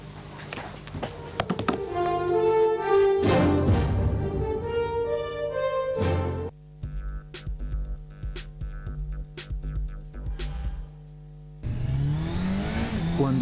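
A car engine revs up and speeds off in a television advert, a busy burst of rising engine tone with tapping and thuds over music, followed by a quieter stretch of sharp clicks and a low drone.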